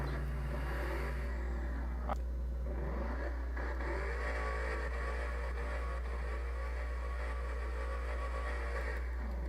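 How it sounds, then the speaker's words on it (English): A car engine in the Roblox driving game Drive Blox starts up and revs, a steady loud synthetic engine drone with rising and falling rev sweeps throughout, no talking. "Let's go ahead and start the engine."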